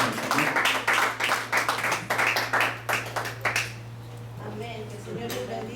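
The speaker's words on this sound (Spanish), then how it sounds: "le voy a pedir que recibamos con un fuerte aplauso a la pastora Kimberly" Applause from a church congregation welcoming a pastor at a Wednesday Bible study, a cluster of distinct claps in a loose rhythm over a steady hum, then thinning out as voices carry on.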